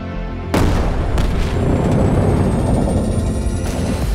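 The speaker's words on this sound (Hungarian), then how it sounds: "Emlékszel a tavalyi 5G torony robbantásra?" A 5G tower explodes in a Hungarian movie trailer: a sudden loud boom breaks in and gives way to a sustained, heavy rumbling roar that fills the rest of the moment.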